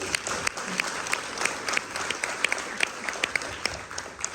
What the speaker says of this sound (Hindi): ज़ोरदार तालियां जनाब ज़फ़र मुहिउद्दीन और उनकी टीम से